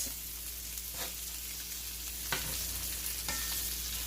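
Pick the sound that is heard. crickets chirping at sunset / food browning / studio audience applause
food browning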